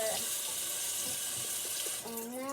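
Running tap water rinses soap off a soft squishy toy, a steady close splashing stream that fills the whole stretch, with a brief voice rising faintly near the end.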